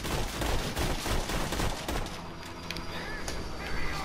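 Rapid rifle gunfire in Borderlands 2, a dense continuous stream of loud shots for a couple of seconds, then scattered softer shots and impacts, with someone talking faintly underneath.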